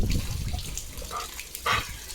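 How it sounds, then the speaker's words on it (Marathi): Wet lapping and slurping of a German Shepherd drinking water up close, irregular laps with small splashes against faint background noise. "इतका दमलाय की बसून पाणी पितोय"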